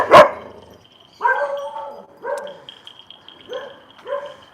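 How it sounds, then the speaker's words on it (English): A dog on a back road in Hua Hin, Thailand barks several times with pauses between, close and fairly loud, after an initial sharp knock. "I've known that dog since he was a puppy, and he's still barking at me."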